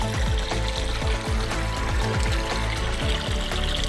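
Overflowing drinking-water tank spills Tungabhadra river supply into a roadside drain, producing a continuous loud rushing, gurgling flow heard up close with no voices.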